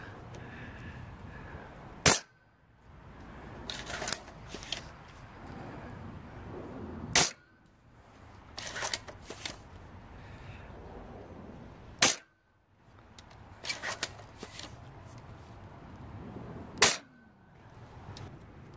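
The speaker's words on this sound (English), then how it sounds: "So we're just gonna test firing." Four sharp, evenly spaced shots from a Nerf X Caliburn blaster during test firing, each a loud crack followed by quieter handling and mechanism noises in between.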